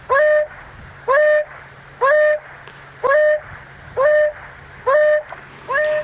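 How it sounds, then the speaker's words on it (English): An African wild dog gives repeated rising hoo calls, about one per second, loud and close, with a faint hiss of background noise between them. "so that is the sound of a wild dog"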